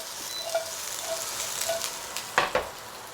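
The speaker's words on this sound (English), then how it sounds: "that's the sizzling noise you want to hear" Steady close sizzling of vegetables stir-frying in a hot pan, with a couple of sharper crackles and pops near the end.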